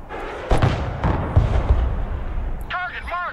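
Artillery fire in the Broken Arrow military strategy game, several heavy booms and thuds spaced irregularly, with a voice speaking among them and a warbling electronic tone near the end.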